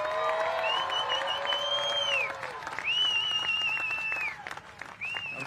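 Crowd at the Rip Curl Eddie Aikau Big Wave Invitational awards applauding and cheering, with sustained clapping under high whistles and whoops that rise and fall several times.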